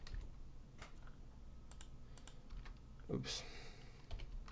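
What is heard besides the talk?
typing on a computer keyboard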